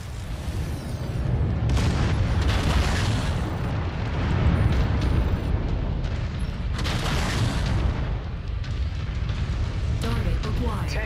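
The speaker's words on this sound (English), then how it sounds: "Building's tumbling down." In the video game Mechwarrior 5, a building collapses amid explosions: heavy rumbling booms and crashing debris roll on continuously, with louder bursts near the start and middle, close and dense.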